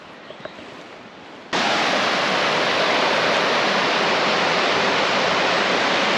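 Steady, loud rushing of a flowing river in deep woods bursts in after a quiet second and a half, then continues without a break.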